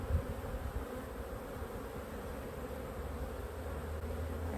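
Agitated honey bees swarm around a nuc box, a dense, steady buzzing drone that fills the air evenly throughout, fairly quiet and uninterrupted.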